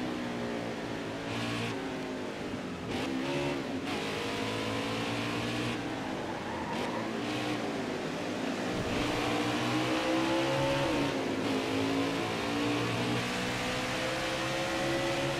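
Whataburger number 6 Chevy Camaro race car engine in NASCAR Heat 5 at the Watkins Glen road course, a continuous quiet engine drone with repeated shifts and revs through corners.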